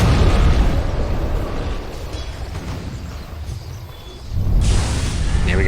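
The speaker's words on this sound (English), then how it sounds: "Edict explosion damage" Diabolic Edict explosions in a Dota 2 team fight give a dense, low booming rumble that dips briefly before a fresh burst of blasts, loud and sustained.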